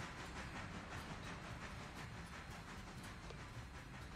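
A logging train rolls along rails in a steady, continuous rumble with faint rhythmic clatter and some hiss, fairly loud and close, with no talking.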